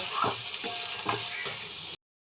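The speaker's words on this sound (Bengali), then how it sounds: "দিয়ে ভালো করে কষাতে থাকবো" Banana flower stir-frying with matar dal in a pan for mochar ghonto, a close sizzle with four scraping stirs of a spatula before the sound cuts off abruptly.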